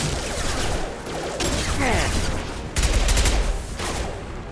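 Gunfire in the video game Mass Effect 2, with a dense, continuous barrage of shots and clattering mechanical effects, loud and close, including a heavier burst near the end.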